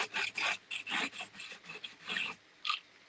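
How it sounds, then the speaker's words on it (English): Sander distressing a gold-painted Dollar Tree frame, a series of close, scratchy rasping strokes in uneven bursts, ending with a short pause and one final stroke. "we're going to just take our sander and just start distressing this a little bit"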